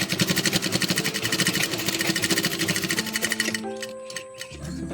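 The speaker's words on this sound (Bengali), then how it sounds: "এইভাবেই পুরোটা সেলাই করে নিচ্ছি" A sewing machine stitches a curtain in rapid, even mechanical bursts for about three and a half seconds, close and clear, then stops and leaves a quieter hum.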